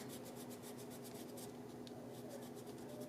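A rubber eraser scrubs back and forth across paper to lift pencil drawing, a close, steady rasping with quick rhythmic strokes through the whole stretch and no talking.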